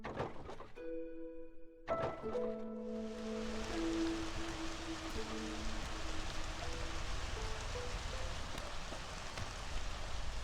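Drizzle rain in the city-building game Against the Storm: a steady, soft hiss of rain that sets in after a dull thunk, overlaid with a few sustained chime-like game tones.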